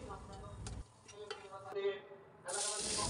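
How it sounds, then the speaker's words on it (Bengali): Chopped onion frying in a pan, with a soft sizzle broken by a few stirring clatters, then a quiet gap before a loud, close, steady sizzle returns. "একটা কাটা পেঁয়াজ ভেজে নিচ্ছি একটু ভালো করে"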